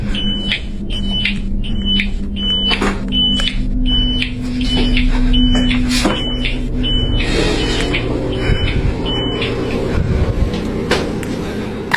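A repeating electronic alarm in a hospital room beeps in a steady, evenly spaced pattern, loud and close, over a constant background hum with no talking.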